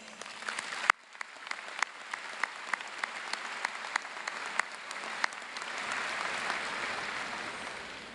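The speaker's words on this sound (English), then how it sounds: "So let's give them a round of applause." Audience applause fills a commencement ceremony for a college of human sciences and engineering, a few sharp claps first and then a dense, steady wash of clapping that swells and holds for several seconds without speech.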